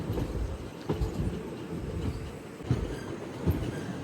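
A Repalle Express passenger train rolls in near Repalle station, with a steady rumble of moving carriages and rhythmic clacks of wheels over rail joints recurring every second or so, heard close from on board.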